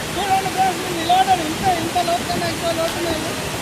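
Steady, full rushing roar of the Mallanna Gandi waterfall in Janagam, heard close up and continuous, with a voice carrying over the water noise.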